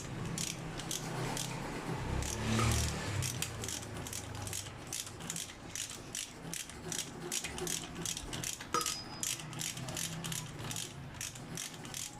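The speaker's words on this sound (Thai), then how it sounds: "ตึงมือก่อนนะครับ ใช้ประแจปกติทั่วไป" A standard hand ratchet wrench tightening cylinder head bolts on a Toyota Altis Dual VVT-i ZR-series engine, giving a steady run of fast, close clicking strokes with a low rumbling thump near the start.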